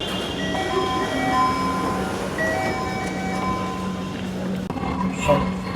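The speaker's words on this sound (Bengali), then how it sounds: "আসার কিছুক্ষণের মধ্যে মেট্রো রেল চলে আসছে।" A Dhaka metro rail train pulls into a station, with a steady electric hum and several sustained tonal whines that shift in pitch. Low rumble and faint crowd voices run underneath throughout.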